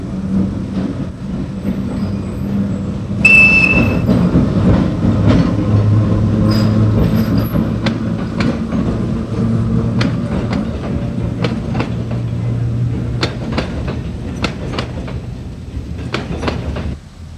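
A trolley rolls steadily from a passing siding onto the main line, its wheels clicking over rail joints in a regular rhythm under a constant low rumble, close and fairly loud with no talk.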